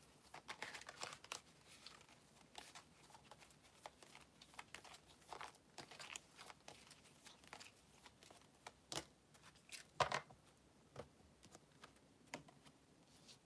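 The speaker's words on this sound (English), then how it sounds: "let's keep shuffling just a little bit more" Quiet, rapid papery riffling and soft slaps of tarot cards being shuffled, in uneven bursts with brief pauses.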